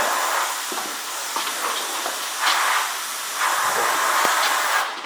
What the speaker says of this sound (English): it's like a small airbrush, isn't it?